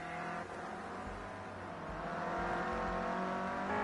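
A Clio Cup race car engine at Oulton Park drones steadily, the engine note rising slightly as it holds speed, at moderate distance with no talk.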